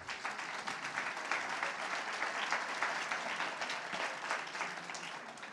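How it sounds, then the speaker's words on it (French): Audience applause fills a label award ceremony for biodiversity and nature in towns, a steady, dense clapping that holds evenly throughout without breaks, moderately distant in a hall. "Donc bravo à ces 3 communes et on peut les applaudir."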